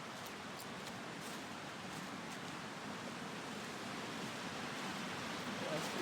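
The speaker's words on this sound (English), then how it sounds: "Check out this Hawse Creek down here." Creek water flows below a campsite, a faint, steady rushing wash of broadband noise heard from a distance with little change.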